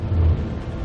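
In the video game Heavy Rain, a car engine starts up and settles into a low, rumbling idle in a brief burst, heard alone.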